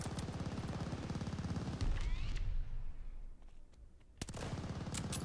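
Gunfire in a video game from a Type 99 sniper rifle: several sharp, loud shots with rapid bursts around them, fading to a quieter gap before more shots crack out near the end.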